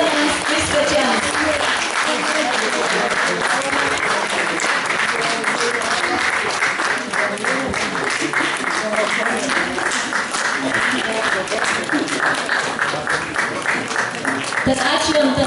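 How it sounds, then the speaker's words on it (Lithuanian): An audience at a Lithuanian name-day celebration applauds loudly and continuously, a dense field of many clapping hands heard up close, with some voices mixed in. "Plojame visi smarkiai mūsų Antanams ir mūsų Antanams ir svečiams."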